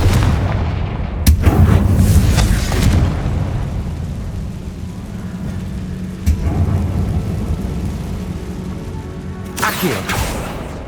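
The Confringo spell in Hogwarts Legacy lets off several loud, deep booming blasts with sharp cracks, spaced a few seconds apart over a rumbling low backdrop.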